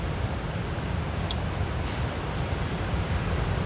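Ocean waves wash along the Gangneung shore in a continuous, broad rushing roar, steady and fairly soft with no distinct breaks between swells.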